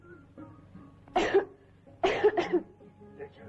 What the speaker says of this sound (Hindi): आज बहुत खांसी आई थी।